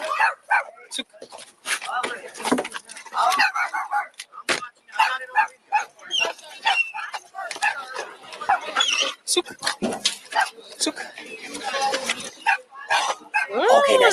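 A police canine barks repeatedly during an arrest scene from the TV show Cops, sharp bursts scattered through a busy stretch with people talking, a door thumping and vehicle noise around.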